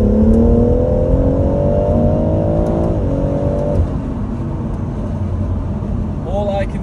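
A stage 2 tuned BMW M140i engine revs loudly in Sport Plus mode, a rising drone that climbs steadily for about three seconds, dips, then settles into a steady roar, with a brief voice near the end.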